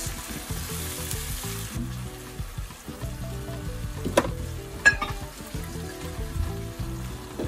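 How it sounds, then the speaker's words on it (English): Sardine spaghetti stir fry sizzling on medium-low heat after being stirred with powder, nutmeg and salt, a continuous close fry with occasional clinks and scrapes and a faint tonal hum underneath, no voices. "Stir it all to combine and allow it to fry on medium-low heat for another 5"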